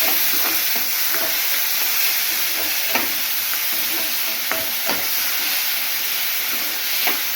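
Tomato and onion frying in tempering oil for a vegetable curry served with puri, a steady broadband sizzle with scattered sharp clicks of a spoon stirring the pan, close and continuous throughout.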